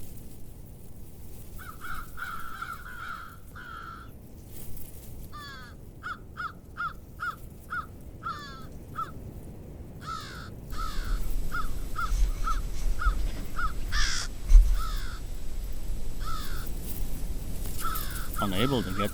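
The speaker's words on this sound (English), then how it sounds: "Unable to get to the carcass, this crow does the next best thing and retrieves some food stashed away for moments just like this." An American crow in a Wisconsin winter setting caws repeatedly in rhythmic bursts of harsh calls, loud and fairly near, while a narrator speaks over part of the sequence.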